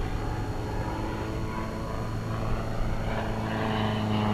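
A Van's RV-4 light aircraft with a 160 horsepower engine flies at a 1994 fly-in, a steady propeller drone that holds evenly and swells slightly toward the end, with no talk.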